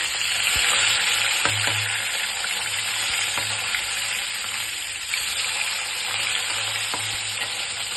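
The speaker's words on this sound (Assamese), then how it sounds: "মাছ ফ্ৰাই হৈ গৈছে আমাৰ।" Fish pieces frying in hot oil in a home kitchen, a continuous hissing sizzle with occasional sharp taps and spatters, and no one speaking.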